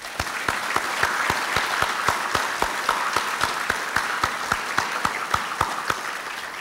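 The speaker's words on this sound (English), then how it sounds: "Let's give them a round of applause, please." A conference audience gives a sustained round of applause, with steady dense clapping and a strong regular rhythmic beat of claps running through it from start to finish.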